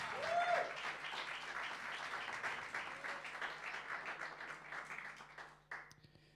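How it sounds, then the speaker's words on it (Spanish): Applause from the audience at a live music bar show, with sustained, fairly quiet clapping that continues for several seconds before cutting off abruptly. "Un aplauso para Lu."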